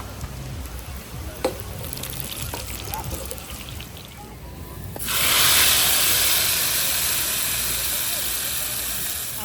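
Cumin seeds and long red chillies hit hot oil in a kadhai for Pakistani kadhi pakora, bursting into a loud, sustained sizzle after a few quiet seconds of faint kitchen clinks.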